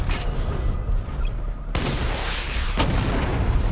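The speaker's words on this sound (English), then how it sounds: "Destroy targets to charge up weapon energy and activate missile barrage." Batman: Arkham Knight missile barrage firing, a dense, loud, continuous rumble of launches and booms with two abrupt surges of blasts, no talk.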